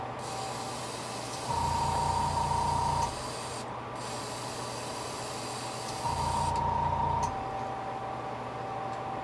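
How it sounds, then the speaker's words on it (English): An airbrush at about 15 psi sprays paint onto a blank fishing lure in two separate bursts of steady, close hiss over a constant background hum, with no talking. "We got her spraying good, folks."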